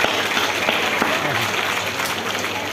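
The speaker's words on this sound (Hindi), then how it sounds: "जोरदार तालियों से स्वागत करें।" Crowd applause at an election rally for the Bharatiya Janata Party where Defence Minister Rajnath Singh is welcomed in Poonch, a steady dense wash of clapping throughout with a voice faintly audible underneath.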